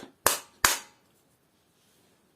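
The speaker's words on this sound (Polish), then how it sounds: "Oczywiście będzie tutaj dzisiaj używany młotek." A hammer strikes the steel core of a coffee machine pump twice in quick succession, two sharp metallic bangs that ring briefly, followed by quiet and a faint third hit at the end.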